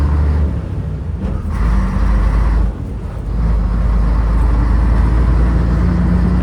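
A fire truck engine runs steadily while the vehicle drives, a loud, close low rumble that dips briefly and then resumes with no talking over it.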